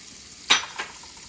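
Onions dropping into melting butter in a pan give a brief burst of sizzle with a softer second hiss just after, close and fairly loud against a quiet kitchen.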